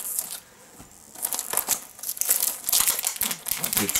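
Cellophane wrapping crinkles and tears as a Ralph Lauren Polo Blue Eau de Toilette 40 ml perfume box is unwrapped, a close, bright run of crackling bursts after a brief quiet start.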